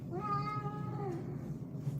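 An old female cat, fourteen years of age, gives one drawn-out, fairly clear meow near the start, then quiet indoor background follows, with no talking.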